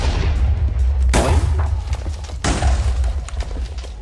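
Explosions from projectiles in the Minecraft video game, two heavy booms roughly a second apart over a loud continuous rumbling game background, no talking.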